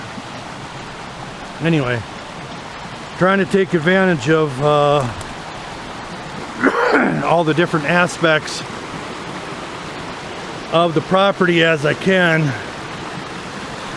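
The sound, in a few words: creek flowing water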